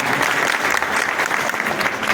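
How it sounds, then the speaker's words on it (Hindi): An audience at a Vishwakarma Jayanti gathering in Indore claps steadily, a dense, even burst of many hands that holds at full strength throughout. "एक बार इनके लिए भी ताली बजा दीजिए।"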